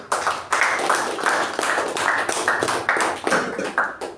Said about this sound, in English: let's give a huge round of applause for our MC today